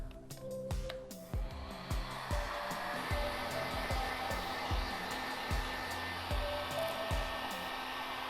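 A heat gun warms freshly applied vinyl wrap before it is peeled, giving a steady loud blowing roar throughout with repeated low thumps and handling bumps mixed in.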